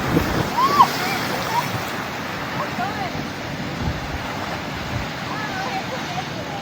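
Ocean surf surges at Thor's Well on Cape Perpetua along the Oregon coast at low tide, a steady rushing wash with wind-like noise, a brief faint bird call near the start and no clear talk.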